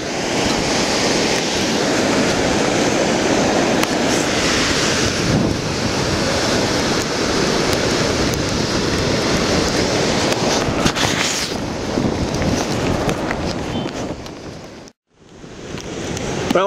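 Surf breaks steadily on a beach in Da Nang, Vietnam, after Typhoon Haiyan, with heavy wind buffeting the microphone throughout; a broad continuous roar that dips briefly near the end.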